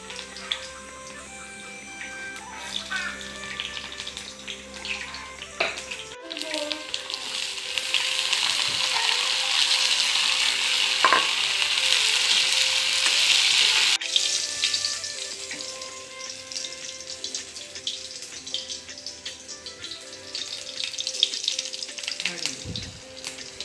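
Bitter gourd, chickpeas and potatoes fry in a pan in a home kitchen, a hissing sizzle that swells in the middle and fades, with scattered clinks and stirring sounds around it.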